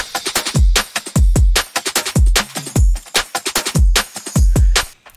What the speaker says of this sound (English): with the whole drums together, it sounds like this.